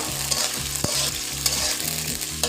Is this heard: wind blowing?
no